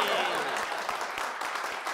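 A studio audience at a Tamil comedy television show claps steadily, a dense, moderately loud patter of applause that runs throughout, with a voice over it.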